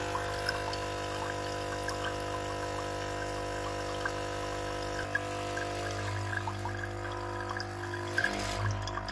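A Tommee Tippee Perfect Prep baby formula machine hums steadily with low pumping and a trickle of water as its tank nears empty, shifting pitch midway and gurgling toward the end; no voices.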